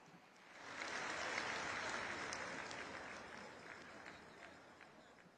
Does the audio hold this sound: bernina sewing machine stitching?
no